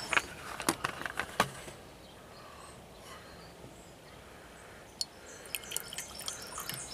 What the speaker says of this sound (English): we'll pour a little hydrochloric acid in it.